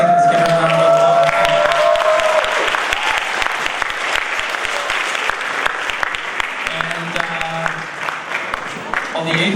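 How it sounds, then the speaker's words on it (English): Students and staff applaud and cheer at a school Black History Month assembly, a sustained crowd clapping with a few whoops, while a voice talks over it at times. "Let's give her a round of applause."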